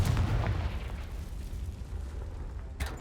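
A Confringo spell explosion in the game Hogwarts Legacy on PC, a deep rumbling boom that decays into a low roar, with a smaller burst near the end.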